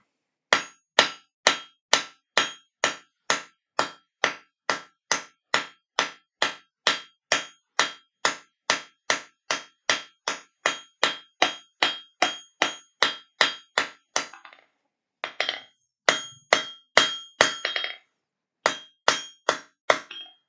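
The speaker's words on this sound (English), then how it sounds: "Literally just doing some forge texturing." Loud, evenly spaced forging hammer blows ring out on metal being forge-textured, dozens of strikes in a steady rhythm, pausing briefly near the end before resuming.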